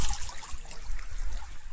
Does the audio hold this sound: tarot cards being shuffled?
no